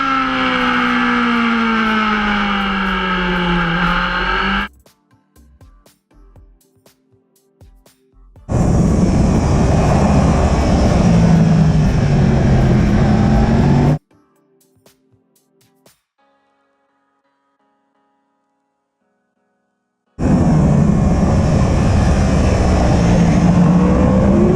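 A racing motorbike engine roars loudly at close range in three sustained bursts, the first with rising and falling revs, separated by near-silent gaps.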